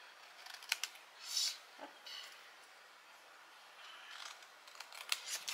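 Scissors snipping paper for a holiday scrapbook album, several quick close crisp cuts separated by quieter pauses.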